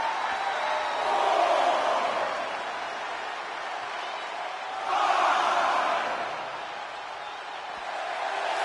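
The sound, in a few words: crowd cheering in video game WWE 2K24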